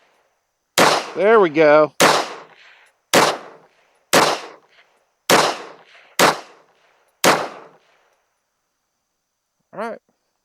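A Walther P38 pistol firing Blazer ammunition outdoors, about seven sharp, loud reports spaced roughly a second apart, each with a short decaying echo, followed by a brief spoken remark.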